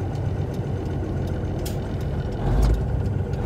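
Cummins diesel engine in an International cabover truck idling while warming up, a low, steady rumbling churn throughout with a brief deeper swell near the end.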